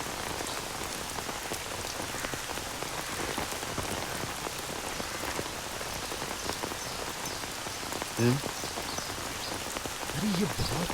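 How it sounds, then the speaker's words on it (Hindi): Heavy rain pouring down in a South Indian film dubbed in Hindi, a dense, close, continuous downpour hiss with a couple of brief low croaks near the end. "अरे ये बहुत तेज बारिश हो रही है।"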